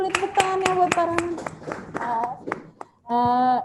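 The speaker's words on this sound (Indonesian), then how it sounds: "Teman-teman yang di ruangan boleh tepuk tangan ya buat Pak Rahman." Clapping rings out in the room during an online seminar, a run of distinct, fairly close hand claps with talking over and between them. A sustained tone cuts in near the end.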